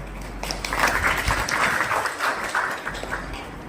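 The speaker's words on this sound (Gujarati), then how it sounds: "આપણે પોતે જ આપણા માટે તાળી પાડીએ એક વખત" Audience applause at a committee meeting of a human rights group in Bhavnagar, a steady wash of many hands clapping together, moderately loud and sustained throughout with no talk over it.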